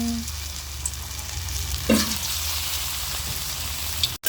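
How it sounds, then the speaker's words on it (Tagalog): Chicken deep-frying in hot oil for orange chicken, a steady close sizzle and bubbling crackle throughout, with a brief louder burst near the middle and a quick clatter at the end. "Okay, mainit na yung ating mantika. Ito na yung ating chicken."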